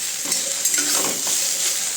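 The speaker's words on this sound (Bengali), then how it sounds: "কচুরলতিটা তেল ছাড়াই আগে একটু নেড়ে নিলাম।" Taro stolons (kochur loti) stirred in a dry pan without oil, a steady rustling scrape with faint light clinks, close and continuous for a couple of seconds with no talking.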